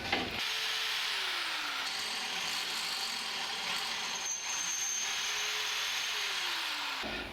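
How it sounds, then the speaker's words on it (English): A power drill whines steadily as it bores into thick steel, the motor pitch dipping and rising under load, loud and close. "When you're drilling metal, it's a good idea to grease it up a little bit"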